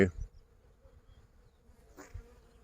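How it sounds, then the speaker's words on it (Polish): Bees buzzing around hives outdoors, a soft steady insect drone running faint in the background, with a couple of brief louder passes nearby. "i pszczołki."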